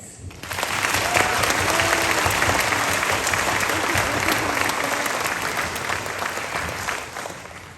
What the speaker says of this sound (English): Please give a round of applause for our parents and families.